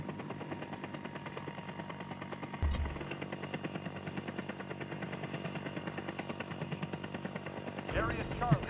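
An objective helicopter called in during a World War 3 match, a steady droning rotor and engine hum running throughout under game noise, with a couple of brief thumps.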